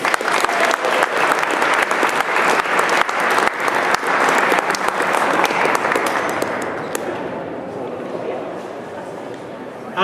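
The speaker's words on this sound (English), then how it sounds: "I hope you'll give a round of applause." Loud, dense applause from a rally crowd fills the air for a speaker, steady at first and then tapering off toward the end, with some voices mixed in.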